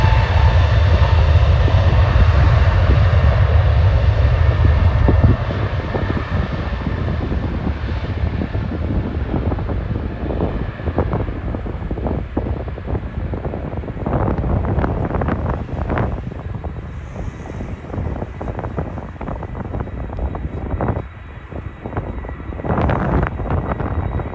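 A Transavia Airbus A321neo takes off at Schiphol, a loud roaring engine rumble that eases into a steady, wind-buffeted drone with sharp gusts of wind noise on the microphone throughout.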